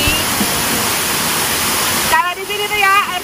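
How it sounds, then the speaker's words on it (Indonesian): Water pours loudly down the Curug waterfall in Banyumas, a dense, steady roar that dominates at first, then drops back as a voice speaks over it. "kalau di sini tuh ya air curugnya tuh kayak gini nih"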